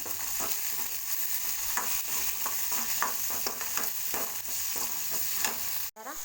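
Curry leaves and coriander greens stir-fried in a pan give a steady close sizzle with repeated spatula scrapes and taps, continuous without any talking.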